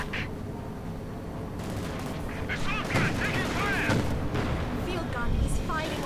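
Gunfire in a Company of Heroes 2 battle, an Ostwind anti-aircraft vehicle firing among dense rattling shots and explosions, continuous and loud, with a commentator talking over it.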